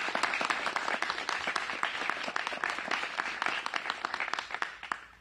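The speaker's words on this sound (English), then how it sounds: "How about a big round of applause for that team," A crowd claps in sustained applause for a team at a food bank grant announcement, steady and dense throughout with sharper individual claps near the end.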